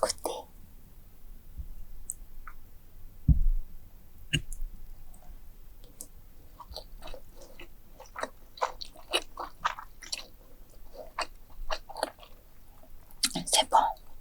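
Someone eats Congolese-style macaroni with soft, close chewing and wet mouth clicks, scattered sparsely over quiet stretches, with occasional whispered talk.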